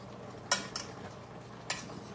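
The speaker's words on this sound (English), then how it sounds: "We're gonna stir these potatoes around." Potatoes are stirred around in a pot, giving a few faint metallic scrapes and clinks of a utensil against cookware over a quiet background.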